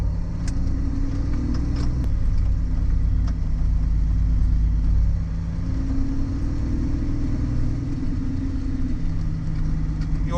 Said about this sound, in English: wee bit of on-farm karting. Just cruising along